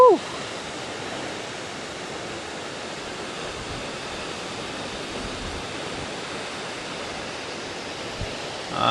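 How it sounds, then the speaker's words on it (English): Steady broadband roar of falling water from waterfalls, constant and fairly loud without breaks, heard from a viewpoint on a walking trail with no talking. "Getting excited, taking looks at the waterfalls."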